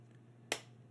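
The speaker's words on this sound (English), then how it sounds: "you clap so that there's a cup in the middle of your hand" One sharp, close pop from a single cupped-hand clap, with hands clapped so a hollow forms in the palm, standing alone against a quiet room hum.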